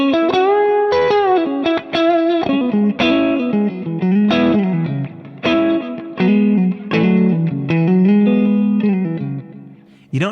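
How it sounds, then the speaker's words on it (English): Electric guitar played clean through a modeler with a chorus effect, single notes and short phrases ringing with a slight wavering, vocal-like shimmer, close and steady with no talking. "When you're chorusing just one tone, it just almost sounds like a little vibrato."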